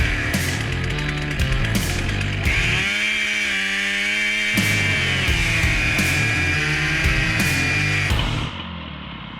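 A chainsaw cuts into a tree at a forest field site, engine revving and bogging down under load in a loud, close, continuous snarl before cutting off near the end.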